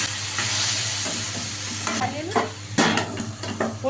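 Tomatoes and green chillies fry in hot oil, giving a steady close sizzle with scraping stir strokes and clatter from a spoon in the pan, with no voices.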